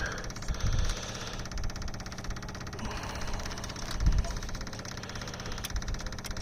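A Perkins 103-10 three-cylinder diesel fitted in a Cushman Truckster idles at low throttle with a steady, rough, knocking low rumble and a couple of brief louder bumps, heard up close.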